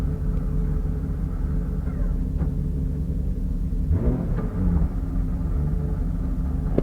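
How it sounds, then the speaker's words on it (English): A BMW E36 engine idles roughly with a steady, low rumble that runs unbroken throughout, joined by a brief uneven shudder near the middle. "Sounds like my idle's a little rough too"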